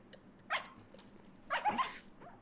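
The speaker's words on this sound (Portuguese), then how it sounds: "O cachorro tá assustado." Dog barking in a video game, two sharp bark bursts about a second apart, the second longer and rougher with a growly tail, heard alone against a quiet background.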